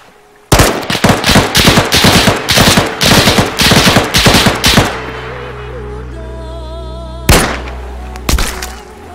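A rapid burst of loud, close gunfire rings out in a fast string of sharp shots, then a ringing pause and two more isolated blasts.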